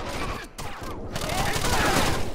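Rapid automatic gunfire bursts loud and dense in the video game Rainbow Six Vegas 2, a continuous rattling fusillade with brief gaps, while a voice speaks over the shooting.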